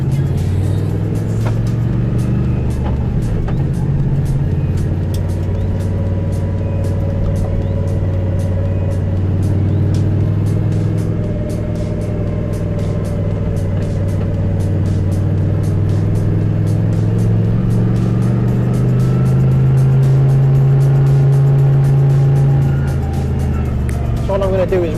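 Toyota 1UZ V8 with a turbo running at low throttle, a loud, steady low rumble with a slowly rising pitch toward the end, with speech mixed in.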